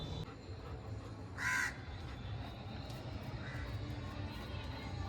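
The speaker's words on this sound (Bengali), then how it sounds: "ওইখানে যে কাকটা বসেছে" A single crow caws once, a short harsh call standing out over a low murmur of background noise, with a fainter second call a moment later.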